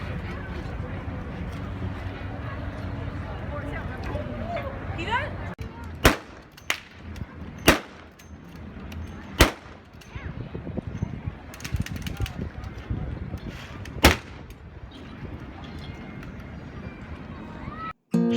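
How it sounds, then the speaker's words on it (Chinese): Gun and cannon firing demonstration at the Halifax naval base, the Royal Canadian Navy's Atlantic base, on a crowded festive dockside: several sharp, loud single reports ring out at irregular intervals over a steady murmur of crowd noise. "期间还有枪炮射击表演。"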